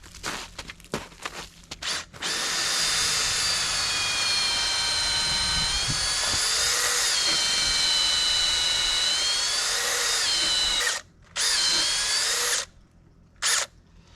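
A power drill whines steadily at high speed for several seconds, pausing briefly near the end before a short final burst.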